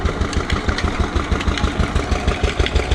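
A motor-driven sugarcane cutting machine runs steadily and close, its engine chugging in a fast, even pulsing rhythm throughout, with no voices.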